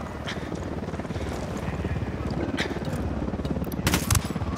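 A helicopter in the video game Ghost Recon Wildlands gives off a steady rotor drone throughout. It is joined by scattered gunfire bursts near the end. The sound is moderately loud and continuous, with no clear speech.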